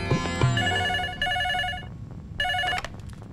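A telephone rings indoors in two clear bursts of electronic trilling bells with a short gap between them, loud and near, with brief low noises at the start.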